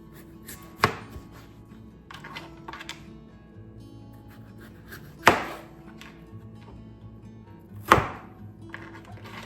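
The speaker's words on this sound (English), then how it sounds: "I'm gonna go ahead and cube these potatoes." A kitchen knife cuts potatoes into cubes for a one-pot beef stew: three sharp, separate chops on a board, spaced several seconds apart, over a quiet background with faint kitchen noise and no talking.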